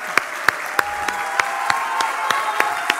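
A conference audience at a social impact summit applauds as a speaker is welcomed onto the stage. The clapping is steady and moderately loud, with a few sharp claps standing out at regular intervals.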